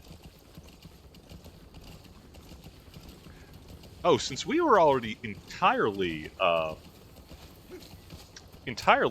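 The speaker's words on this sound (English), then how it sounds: "Put man on horse, ride horse, recklessly." Horse hooves clip-clopping under a rider in Metal Gear Solid 5, a soft rhythmic beat low in the mix beneath someone talking over most of the stretch.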